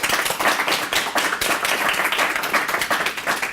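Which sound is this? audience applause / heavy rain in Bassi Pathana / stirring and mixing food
audience applause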